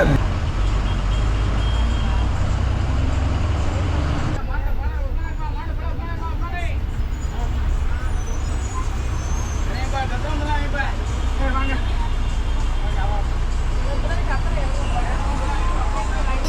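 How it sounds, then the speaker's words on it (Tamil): Traffic at Chathiram bus stand in Trichy, with buses and other vehicles rumbling steadily nearby, a continuous loud roadway din with engine and horn-like tones, and people talking underneath. "இப்போ நீங்கள் பார்க்குறது தான் சத்திரம் பேருந்து நிலையம்"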